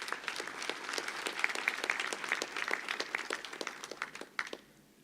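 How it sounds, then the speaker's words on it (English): Graduation audience at Strathmore University applauding the chairperson of the University Council, a steady patter of many hands clapping at moderate level that thins out and fades over the last half second. "Kindly give the chairperson of the University Council another round of applause"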